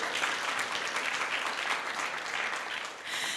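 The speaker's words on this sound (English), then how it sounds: "give us a round of applause" An audience at a startup accelerator demo day claps in sustained, even applause that carries steadily through, dipping briefly near the end before swelling again, with no speech over it.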